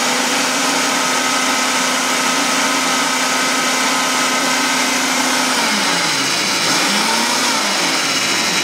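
A blender whirs loudly and steadily, mincing ginger and onion into a paste, its motor pitch dipping and wavering near the end as the load shifts.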